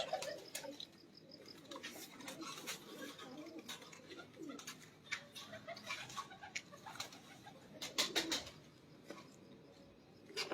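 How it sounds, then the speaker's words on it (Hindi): Pigeons from a Lahore loft coo faintly in soft, repeated low murmurs under scattered flutters, clicks and other bird chirps, with quiet background movement throughout. "ये जी दीवान साहब वाले जो कबूतर है उनमें से ये कबूतर है"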